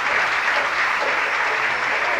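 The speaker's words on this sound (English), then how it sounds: "I hear the audience booing, cheering, and everything else." A live audience roars in a dense, steady wash of cheering and applause, loud and continuous, with no clear voice standing out.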